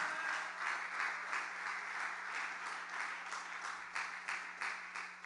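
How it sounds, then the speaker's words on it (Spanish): A church congregation gives a strong round of applause during a sermon, a fairly faint, steady clapping with rhythmic surges, heard over a constant low electrical hum, with no speech. "¿Cuántos pueden darle un fuerte aplauso a Cristo en esta hora?"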